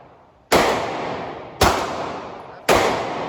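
Three sharp, loud gunshots crack out at a gun range, about a second apart, each hitting hard and then ringing off with a long decaying tail, with no talk over them.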